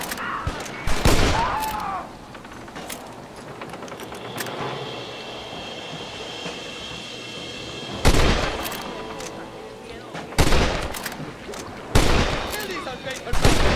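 Rifle gunfire in Red Dead Redemption, sharp loud shots fired at intervals of a few seconds amid background game ambience, with someone talking between the shots.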